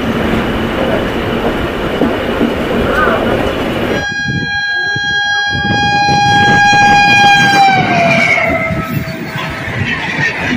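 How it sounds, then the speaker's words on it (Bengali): Howrah–CSMT Duronto Express passing alongside a Howrah–Medinipur local train, a loud roar of rushing rail noise broken by a long, sustained horn blast partway through. "এখন আমার সাইড থেকে পাস হচ্ছে হাওড়া ছত্রপতি শিবাজি টার্মিনাল দুরন্ত এক্সপ্রেস।"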